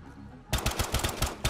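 An M19 fires a rapid burst of about nine close, loud shots in a Black Ops 3 custom zombies game, each report punchy and evenly spaced after a brief quiet start.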